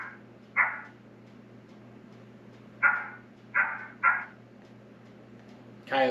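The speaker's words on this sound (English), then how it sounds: "coyote barking," Coyote barking played through an electronic predator caller: a few short, sharp barks, one single and then a quick cluster of three, with a steady low hum in the background.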